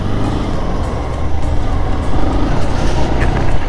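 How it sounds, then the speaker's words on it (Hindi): Dense jammed traffic on a road in Meghalaya rumbles loudly and close, a thick mix of truck and bus engines idling and creeping with a hiss of air brakes. "ट्रैफिक जाम वाला सीन चालू हो चुका है इधर से। 9 बजा है, पूरा ट्रैफिक जाम है इधर।"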